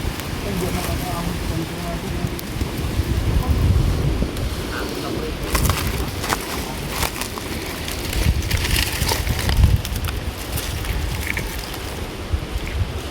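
Steady, blustery wind rushes and buffets a microphone outdoors, with low rumbling gusts throughout and occasional crackles under some indistinct voices.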